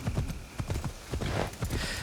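Hooves clip-clop quickly as a horse gallops in the video game Assassin's Creed Shadows, a fast regular beat of thuds, fairly close and moderately quiet, with no talking over it.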